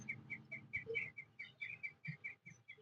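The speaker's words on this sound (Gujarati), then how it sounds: "ટીટોળિયું બોલે ટી ટી ટી ટી." Red-wattled lapwing calling outdoors in the morning, a series of short, bright, repeated notes in quick rhythm, fairly close and clear with no talk over them.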